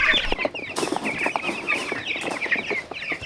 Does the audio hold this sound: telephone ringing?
no